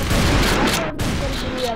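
Gunfire in a shooter video game comes as a dense burst of rapid shots, loud and close, followed by a brief pause and more scattered firing.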